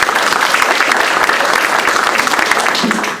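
A gallery talk audience breaks into loud, sustained applause for the women who helped paint and hang an art show, continuous clapping filling the whole stretch without pause.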